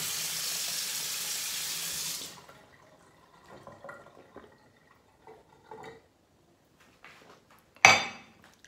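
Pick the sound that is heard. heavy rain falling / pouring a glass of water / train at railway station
pouring a glass of water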